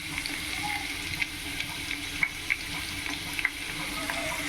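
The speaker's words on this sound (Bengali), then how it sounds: "এইখানে আলু ভাজা হচ্ছে" Potatoes frying in a pan for a chicken curry with potato, a steady low sizzle with occasional light clinks and scrapes of a utensil, close and moderately quiet, no speech.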